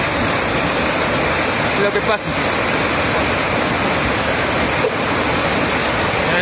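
Rushing floodwater of a rising river in Rosario de Lerma, a loud, steady, broadband roar throughout, with someone briefly speaking over it.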